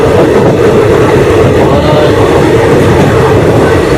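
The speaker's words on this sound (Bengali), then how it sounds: "এই ঢুকে গেল আমাদের ট্রেন" Loud, steady rumble of a train entering Khagraghat Road station, a dense low roar close by with a faint rhythmic clatter.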